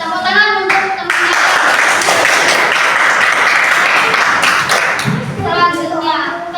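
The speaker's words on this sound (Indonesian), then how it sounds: "Tepuk tangan untuk teman-teman." Classroom of children clapping for their classmates during a lesson, a dense burst of applause lasting several seconds, framed by a voice speaking before and after.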